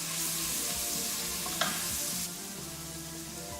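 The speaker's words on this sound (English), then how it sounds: "we're just gonna throw things in and sort of saute them. So first goes in your shallots" Shallots sauté in hot oil inside a Breville Fast Cooker, a steady close sizzle and hiss with a brief clatter of stirring partway through, then a slightly softer frying hiss.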